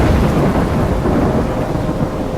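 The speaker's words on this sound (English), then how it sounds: "I'm trapped in a storm?" Thunderstorm in the video game Life is Strange: a loud, continuous roar of heavy rain and low rolling thunder with no pauses, close and dense throughout.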